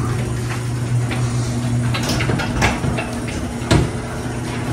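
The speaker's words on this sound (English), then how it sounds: "Let's close the garage door" A garage door closes beside a new 2022 Mercedes GLC compact SUV, giving off a steady mechanical rumble with a few knocks and a final thud, close and fairly loud.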